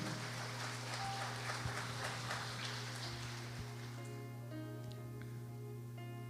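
Church congregation applauding during a sermon, a steady wash of clapping that sounds rain-like, loud and sustained before thinning out, with a low electronic hum and faint keyboard tones underneath.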